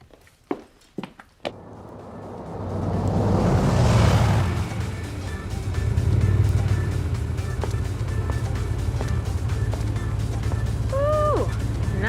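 Car engine rising and rumbling steadily nearby after a few sharp thumps at the start, settling into a continuous idle-like drone.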